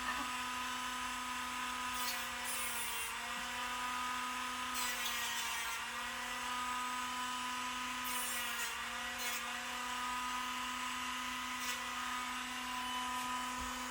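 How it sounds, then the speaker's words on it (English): A Dremel rotary tool trims a dog's nails, a steady high-pitched whine held close for the whole stretch, with brief brighter grinding bursts where the bit meets the nail. "Now, does she like the Dremel?"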